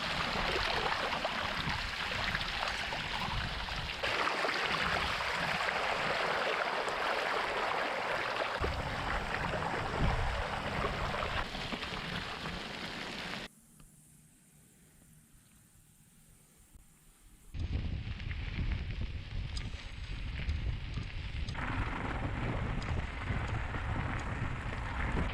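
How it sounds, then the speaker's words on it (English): A 1989 Specialized Rock Combo bicycle with a 3x7 drivetrain rolls over a gravel road, giving a steady broadband crunch and rush with wind noise. It drops to a quieter stretch midway, then returns just as loud; no one speaks. "Listen to how quiet the 3x7 drivetrain is."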